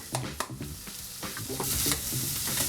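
Garlic sizzling in a hot pan for Thai basil pork stir fry, a bright crackling sizzle with quick scraping stir strokes and utensil taps, close and busy, with no talking.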